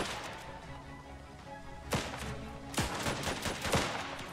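Gunfire in the video game Last Train Home: sharp, loud shots crack out around the two-second mark, then a rapid cluster of several more follows over a steady background bed, with no talking.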